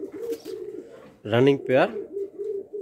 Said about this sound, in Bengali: এখানে এক জোড়া কালো লক্ষা কবুতর দেখতে পাচ্ছেন